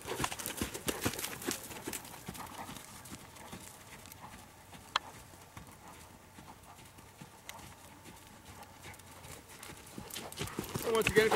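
A horse canters on the lunge with soft, rhythmic hoofbeats on a yielding surface, faint and steady.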